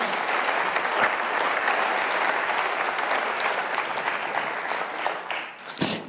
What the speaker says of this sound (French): de Roland Arnaud, le PDG de Fontany, sous vos applaudissements spontanés bien entendu.